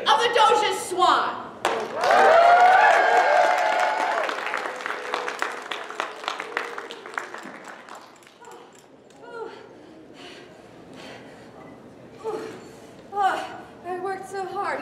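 A live audience screams and applauds loudly for a costumed theater troupe's play at a medieval Twelfth Night celebration. A high shriek rides over dense clapping that fades into scattered claps, and voices talk afterward.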